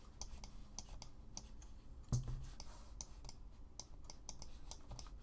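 Rapid, light clicks of keys pressed on a computer keyboard, an irregular typing patter at low level with one slightly louder thump partway through and no voices.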